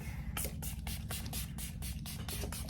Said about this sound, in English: So you will spray down your face.